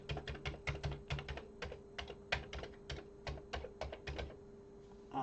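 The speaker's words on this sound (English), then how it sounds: "Okay, so keyboard works." Keys on a Commodore VIC-20 keyboard are typed in quick irregular bursts of close, crisp clicks, with a steady low hum underneath and no talking.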